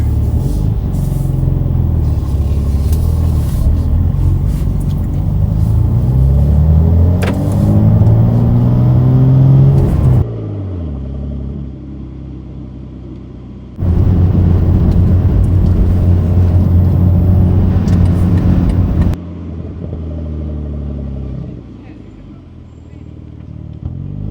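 A BMW G87 M2 fitted with an AWE SwitchPath exhaust, running in Efficient mode, accelerates hard, its engine note climbing and droning loudly in two long sustained pulls separated by a brief lull.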